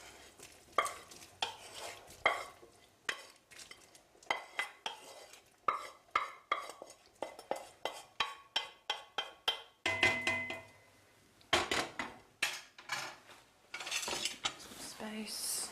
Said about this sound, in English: I'm going to add just the onions first.